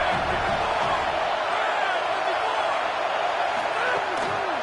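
Home crowd roar in a college football video game, Miami vs LSU on a third-down defensive stand, a steady dense wall of cheering and whooping that holds constant and loud throughout.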